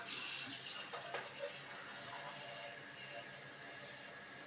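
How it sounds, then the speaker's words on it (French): Water pours steadily into the reservoir of a Saeco Odea Giro espresso machine, giving a soft, continuous splashing hiss up close with slight variations in flow. "Donc, je vais mettre l'eau dedans."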